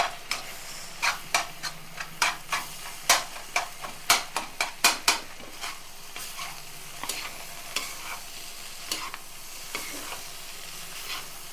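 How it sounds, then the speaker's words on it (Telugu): Kothu chicken parotta tossed and mixed with two metal ladles in a pan over high flame, giving a run of sharp, irregular clanks and scrapes over a steady low sizzle, then thinning to occasional taps. "నేనైతే ఇప్పుడు 2 గరిటెలతోటి కలుపుతున్నాను."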